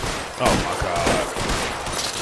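Gunfire in the video game L.A. Noire, a dense burst of overlapping shots crackling through the whole stretch, loud and close, with a voice speaking briefly over it.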